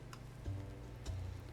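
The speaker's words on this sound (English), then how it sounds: "Clock's ticking." In the horror video game Dark Deception, a clock ticks with two distinct heavy tick-tock beats about half a second apart, standing out over a steady droning ambient background with no talk.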